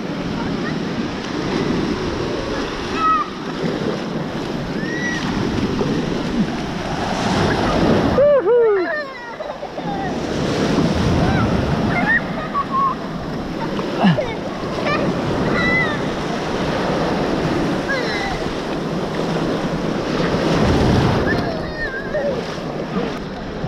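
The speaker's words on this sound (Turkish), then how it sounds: "Dalga geliyor. Dalga geliyor." Sea waves break and wash around a small boat at sea, with a continuous rough surge and wind buffeting the microphone, while people call out over the noise.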